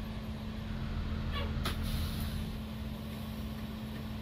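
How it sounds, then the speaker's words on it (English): Heaters blow loudly inside a moving school bus on a snowy afternoon, a constant droning hum with low engine rumble beneath and one brief rattle, no one speaking. "Here the heaters though. They're really loud."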